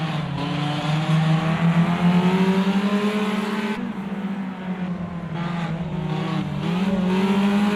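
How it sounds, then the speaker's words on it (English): A race car in a full race replay revs hard and steadily, then the engine note dips as the driver lightly brakes before power returns; loud, continuous engine drone with shifting pitch and no talk. "You can see his revs drop, just lightly putting on the brake, starts applying the power to get the car settled."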